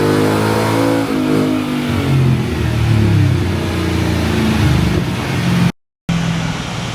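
Stock-tuned 2023 Ford Raptor R engine on a dyno running a full-throttle pull on 91 octane fuel, revving loud and steady with a rising pitch from start to finish, cut by a brief dropout near the end.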